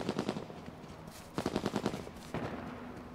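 Bursts of automatic gunfire in a big firefight in the video game H1Z1, rapid rhythmic volleys in three clusters with short pauses between, moderately distant and sharp, with no talk over them.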